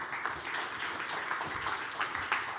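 Audience applause at a formal presidential candidate speech event, a dense steady patter of many hands clapping throughout.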